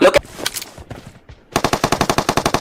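Automatic gunfire in the mobile battle royale game BGMI (PUBG Mobile): a few scattered shots, then a rapid, evenly spaced burst of a dozen or so rounds.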